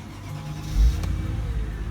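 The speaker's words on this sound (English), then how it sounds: "Let's start it up." A Mercedes AMG with a manual transmission and stock exhaust cranks and catches with a brief low surge, then settles into a steady, quiet idle rumble.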